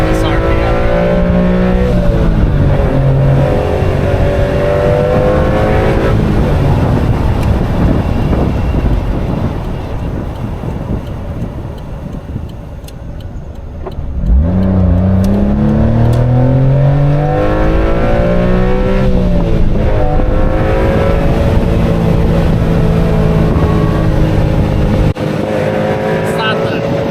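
A 1991 Honda Beat micro car's small engine revs up through the gears while driving, rising and falling repeatedly with wind buffeting the microphone, a lull midway, and someone talking over it.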